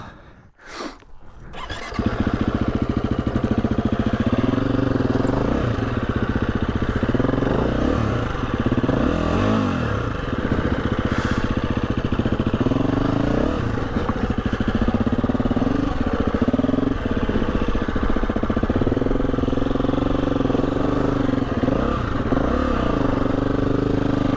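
Husqvarna 350 motorcycle engine catches after a couple of short bursts, then runs loud and steady nearby, with small rises and dips in revs, outdoors in the Yorkshire Dales.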